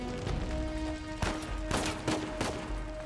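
Gunfire in the video game Uncharted 4: a few sharp shots crack out over a droning, tonal game soundtrack, loud and spaced roughly a second apart.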